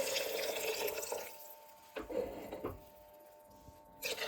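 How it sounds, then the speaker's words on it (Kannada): Water splashes and pours into a pot for uppsaru, then pauses, followed by a few short splashy pours and trickles, fairly close. "ಹೀಗೆ ನೀರು ಹಾಕ್ಕೊಳ್ಳಿ."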